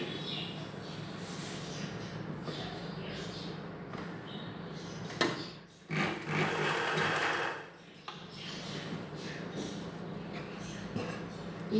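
A sewing machine stitching chudidhar pant cloth runs in steady bursts, its motor whirring loudly for a few seconds at a time, with brief pauses between runs and quiet background sound.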